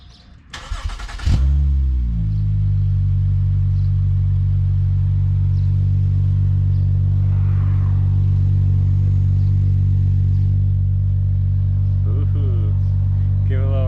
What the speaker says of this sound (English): Alright, cold start.